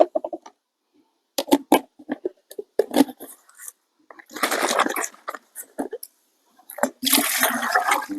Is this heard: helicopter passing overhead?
no